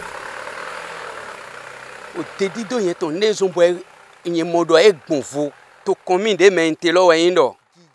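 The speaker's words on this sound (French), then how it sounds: "Mais maintenant, nous avons un tracteur qui nous aide." A farm tractor engine idles in an oil palm plantation, a low steady hum heard alone at first and then running beneath someone speaking French for most of the clip.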